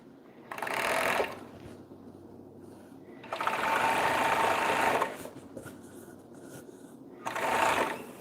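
Sewing machine stitching a romper, running in three separate bursts of steady mechanical whirring, each about one to two seconds long, with quieter pauses between them.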